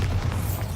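A Bombarda blasting spell cast in Hogwarts Legacy gives off a deep, rumbling boom that holds steady for under a second with no voices over it.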